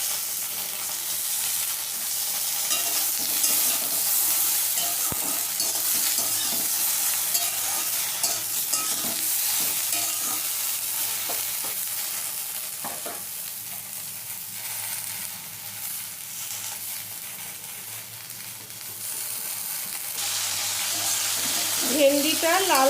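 Okra, salted and lightly dusted with turmeric for bhindi posto, fries in a pan with a long, steady sizzle and repeated scraping stirs close by, fading a little before picking up again near the end.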